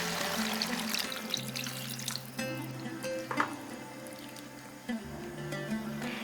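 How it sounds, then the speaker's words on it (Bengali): Water, about two cups, poured into a pot of simmering vegetarian curry gravy, a steady liquid rush with gurgling over several seconds, close and moderately loud. "এরপর দিয়ে দিচ্ছি একটু বেশি পরিমাণে জল,"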